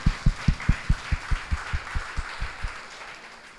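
A worship congregation at a Sunday service claps in unison for God, giving about a dozen strong, evenly spaced rhythmic claps over murmuring voices and a faint wash of sound, with the claps softening and stopping near the end.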